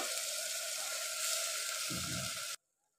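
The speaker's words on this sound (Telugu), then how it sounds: "ఇప్పుడు స్ప్రింగ్ ఆనియన్స్ మొత్తము ఆయిల్లో అయితే వేసుకోవాలి." Spring onions hiss and sizzle in hot frying oil as a steady, close crackle, with a brief stir near the end before the sound cuts off abruptly.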